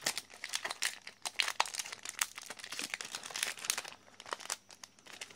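Yu-Gi-Oh Battles of Legend: Vengeance booster pack wrappers crinkle and tear close up in quick, irregular bursts of crisp plastic rustling.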